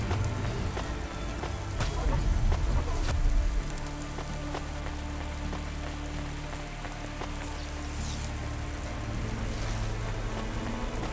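Rain falls across a futuristic city in the video game Cloudpunk, a steady hiss of drops on surfaces with a low vehicle hum beneath, continuous and fairly loud.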